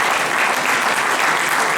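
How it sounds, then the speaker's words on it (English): Sustained, loud applause from an audience honoring gentlemen at an Arizona Negro Leagues centennial event, a dense steady patter of many hands throughout. "Let's give these gentlemen a hand for that research."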